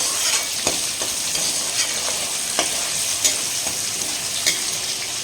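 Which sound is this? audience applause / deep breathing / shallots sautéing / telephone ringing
shallots sautéing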